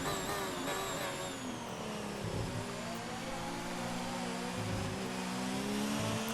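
Engine of a Formula 1 car in a racing video game, a loud, high-pitched whine that holds steady and climbs in pitch as the car accelerates out of a chicane, close and continuous, with no talking.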